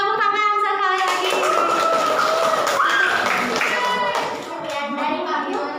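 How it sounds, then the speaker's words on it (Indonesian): A science class of schoolchildren claps hands together, rapid clapping blended with children's voices and a teacher's speech over the top, loud and close throughout. "Tepuk tangan sekali lagi."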